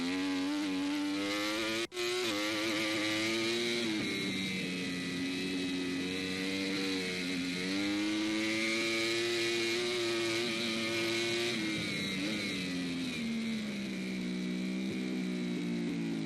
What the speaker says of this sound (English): Beautiful sound of that Yamaha R1 engine.